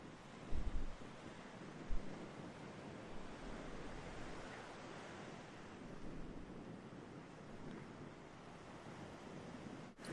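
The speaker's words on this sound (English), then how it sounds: "a better sense of what happens when that water splashes against the rocks, gets thrown into the air" Ocean waves splash and surge against the rocks at Perdido Pass, a steady broadband wash of surf with wind buffeting the microphone and a couple of heavier thumps early on, no voices.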